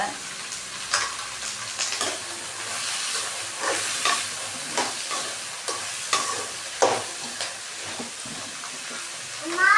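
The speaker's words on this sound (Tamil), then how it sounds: "அதே எண்ணெயிலே நல்லா வதக்க வேண்டியதுதான்" Food sizzles and fries in hot oil in a pan while a spoon stirs and scrapes, giving a steady soft crackle punctuated by repeated clinks and scrapes, close and fairly quiet, with no talk.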